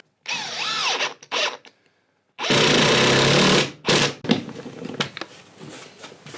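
A power drill on power setting 2 works in bursts, whirring and rattling loudly as it drives screws into a guitar hanging rack, with short pauses between runs and a long heavy burst in the middle.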